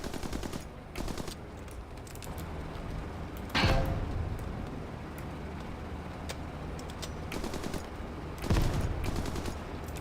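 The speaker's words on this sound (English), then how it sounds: "The machine gun sounds way better." Machine gun fire in an aircraft combat video game, a steady dense rattle of rapid shots with two louder bursts standing out, heard alone without talk.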